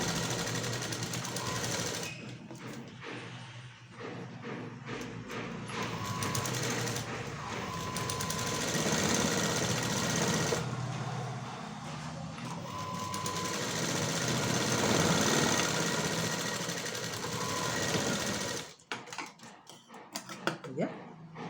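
An electric sewing machine stitches the side seam of a blouse, running in rapid rattling bursts separated by short pauses, heard up close.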